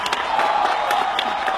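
Audience clapping and cheering at a motivational talk, a dense crowd roar with scattered claps and shouts, moderately loud and sustained.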